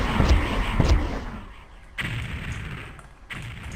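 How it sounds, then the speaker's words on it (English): Rocket launcher blasts in the shooter game Doom 64, with several heavy booming thuds and rumbling explosions close up and loud, separated by short gaps and followed by lingering low rumble. "I'm just going to go ahead and rocket them."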